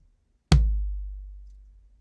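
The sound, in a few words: drum sample with snares off, clean, no snare rattle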